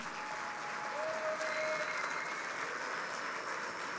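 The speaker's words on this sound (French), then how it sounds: "faites-lui un maximum d'applaudissements" Sustained applause from an audience welcoming a guest, an Olympic boxing champion, onto a stage at a talk event, steady and fairly distant, with no speech over it.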